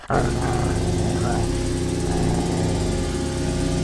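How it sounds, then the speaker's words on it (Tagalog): A dog stands alert by a window and barks threateningly at two men passing on a motorbike, its sound dense and continuous alongside a steady low engine-like rumble, loud and close throughout. "tahol ng tahol ang aso, parang nagbabanta"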